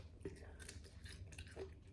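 Fresh Grand Rapids lettuce leaves are bitten and chewed close up in a quiet garden setting, giving soft crisp crunches and moist chewing sounds over a faint low background hum.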